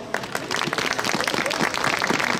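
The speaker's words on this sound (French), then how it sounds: "Vous pouvez l'applaudir très fort." Audience applause at a bakery festival, the Fête de la Niflette in Provins, a dense, steady wash of many hands clapping close by from start to finish.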